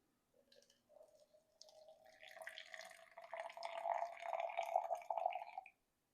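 Hot water pours into an Aeropress coffee maker sitting on a scale, a thin trickle at first that swells into a fuller gurgling stream as about 60 grams fill the chamber, then stops abruptly; close and fairly quiet.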